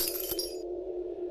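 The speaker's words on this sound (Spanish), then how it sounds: "mis oídos resonaron con el sonido de cristales que se rompían" Window glass smashed with a hammer, a sharp close crash of shattering panes that rings out and fades within about half a second over a steady low hum.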